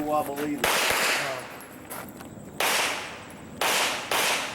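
Gunfire from a shooter running a stage at an IDPA pistol match at the Mecklenburg Wildlife Club, with loud sharp shots in quick pairs and bursts separated by short pauses, and a faint voice before the first shot.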